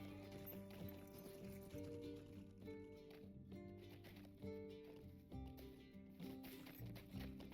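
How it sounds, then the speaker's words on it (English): A red skeletal horse gallops in Lord of the Rings Online, its steady clip-clop hoofbeats running throughout beneath a layer of tonal game music. "Well, that's that red skeletal horse."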